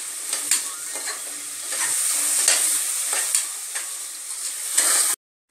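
Onions fry in ghee for ghee rice with a loud, steady sizzle and crackle, punctuated by stirring scrapes, before the sound cuts off abruptly.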